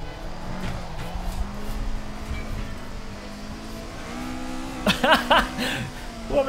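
In a racing video game, a race car's engine drones with a rough, ragged note, pitch rising and falling through gear changes, joined near the end by sharp bursts like tyre squeal or revving.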